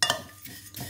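A spoon stirs a mixture in a bowl, giving a short, close clatter of metal against the bowl with a couple of louder scrapes.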